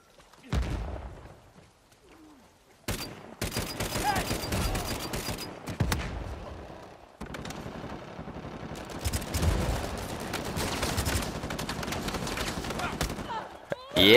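Rapid bursts of gunfire and explosions from Uncharted 4 multiplayer crackle in dense volleys after a quiet start, loud and sustained, with players talking over the combat.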